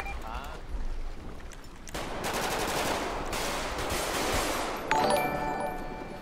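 Sniper rifle fire in GTA 5, heard as a sharp burst of gunfire that swells into a dense, loud stretch of shooting and ends with a hard crack near the end, with voices talking over it.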